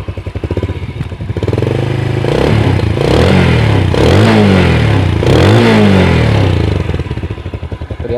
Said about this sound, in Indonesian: Cukup nyaring ya untuk knalpot standar.